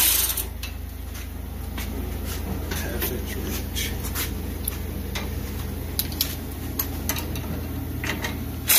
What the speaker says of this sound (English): Now let's tighten up some of these bolts that we have hand tied.